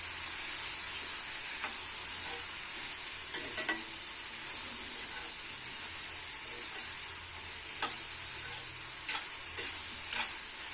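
Mushroom pieces with turmeric stir-fry in a pan for curry, a steady bright hiss of oil with occasional scraping and tapping strokes of the spatula, close and alone.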